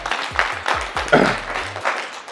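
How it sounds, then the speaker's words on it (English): Applause from attendees at a business mastermind event in a mansion, brief and fairly close, with a voice talking over the clapping. "Round of applause for yourself."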